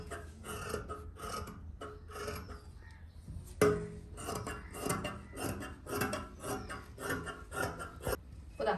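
Scissors cut through kurti fabric along a marked line in a quiet room, making a soft, repeated rasping and snipping in short bursts at close range.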